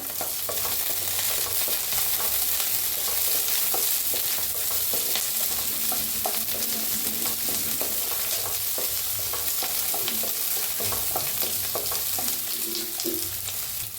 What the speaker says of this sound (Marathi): तेल चांगलं गरम झाले, त्याच्यातच कांदा भाजून घ्यायचा आहे।